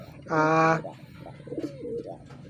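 A young racing pigeon gives a short, close coo followed by softer, throatier murmurs, with background rustle in a loft.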